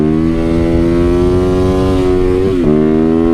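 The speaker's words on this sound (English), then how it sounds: "when you crank that throttle on the 450" A 450cc supermoto single-cylinder engine holds a loud, steady high rev as the throttle is cranked, dipping briefly near the end before climbing again, with no talk over it.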